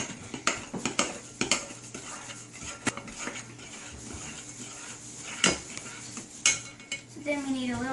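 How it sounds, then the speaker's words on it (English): Muffin batter for jelly doughnut muffins is stirred in a bowl, repeated spoon taps and scrapes against the bowl in an uneven rhythm, fairly faint and close, with a voice briefly heard. "And then you stir it."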